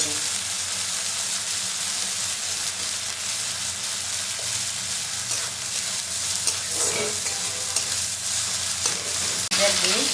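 Ginger and spices being stir-fried in a pan: a continuous close sizzle with occasional scrapes and clinks of the spatula as the mixture is stirred.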